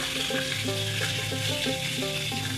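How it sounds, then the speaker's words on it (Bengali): Fish frying in a pan in a home kitchen, with a steady broadband sizzle that holds throughout and faint tonal kitchen sounds or music underneath, with no talk. "একদিকে মাছ ভাজি করছে"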